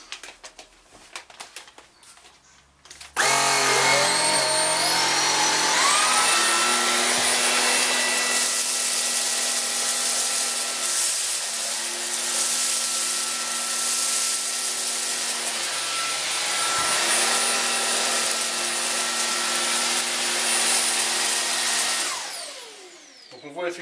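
A Cecotec Rockstar 500 cordless vacuum cleaner starts up with a rising whine, then runs loud and steady across carpet for about twenty seconds before winding down.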